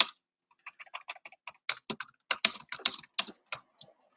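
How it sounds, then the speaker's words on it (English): Typing on a computer keyboard while authoring an assessment question, irregular quick clusters of close, crisp key clicks with short pauses, no voices. "apologies for my typing here."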